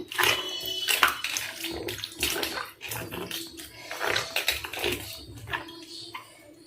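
Rice being washed in water by hand in a home kitchen, giving irregular sloshing and rubbing splashes close by with no talk.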